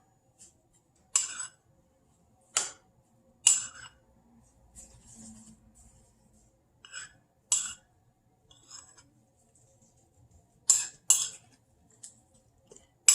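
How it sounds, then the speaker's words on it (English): A utensil scrapes and clinks against a pot while keto food is stirred, in sharp separate bursts of metallic clatter with quiet gaps between them and a brief soft scraping. "And give it some stirs."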